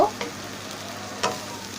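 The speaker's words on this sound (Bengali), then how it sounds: "সেই ডালটা দিয়ে দেবো দেওয়ার পর মশলার সাথে ভালো করে এটাকে মিক্স করে দেব" Masoor lentils frying with spices as they are stirred together, a close crackling sizzle broken by two brief scrapes of the spoon.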